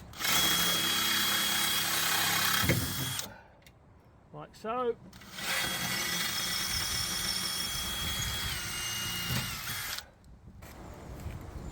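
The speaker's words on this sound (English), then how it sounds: "Drill the old one out" A loud power drill whines in two long bursts drilling out an old rivet on a narrowboat, with a brief spoken pause between them.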